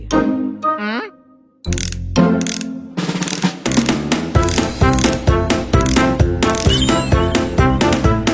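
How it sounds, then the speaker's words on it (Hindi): Cartoon sound effects for four screws being unscrewed: loud, busy ratcheting and squeaky mechanical whirring runs over a bouncy music bed, with a brief sliding whistle at the start and a short gap before the mechanism noise. "राइट के 4 स्क्रू खोलने हैं।"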